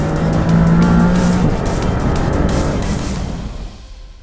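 Maserati MC20 supercar under hard acceleration, a loud, close engine roar with a high tire squeal over the first second and a half, then the roar gradually fading.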